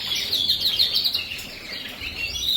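Gloster canaries in breeding cages give bright, rapid high chirps and trills, a busy continuous twittering close by with no voices.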